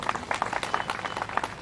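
Crowd clapping at an Odisha election campaign rally, a ragged burst of many hands from a sizeable audience, steady and moderately loud for a short stretch without talk.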